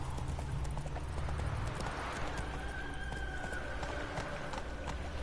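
Horse hooves galloping in the video game Witcher 3, a loud, fast, continuous clip-clop rhythm running throughout, with game ambience beneath.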